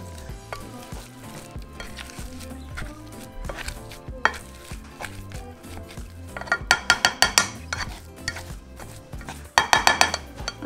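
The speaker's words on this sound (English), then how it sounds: "start smashing them as if we were making mashed potatoes" Sharp clattering bursts from a utensil mashing boiled potatoes in a pot, coming in quick clusters over steady background music.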